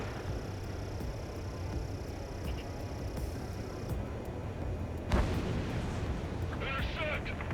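Anti-aircraft fire in the combat flight game Ace Combat 7 makes a dense, continuous rumbling barrage. Sharper bursts and crackles cut through, with one stronger blast about two-thirds of the way in.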